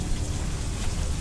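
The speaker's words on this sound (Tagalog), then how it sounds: "Malakas ang ulan." Heavy rain pours steadily and loudly, a dense unbroken hiss and patter with no voices and no pauses.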